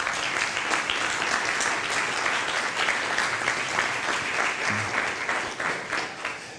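Conference audience applauding steadily throughout, a dense, sustained clapping from a seated crowd that stays at an even level before tapering slightly at the end.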